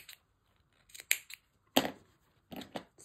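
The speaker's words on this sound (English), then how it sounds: "Probably need to snip around the head" Scissors snipping fabric around the head of a sewn bunny: several crisp, close cuts in small irregular clusters separated by quiet gaps, soft overall with no talk.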